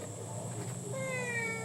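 A small kitten gives thin, high meows, one after another over a steady background hum.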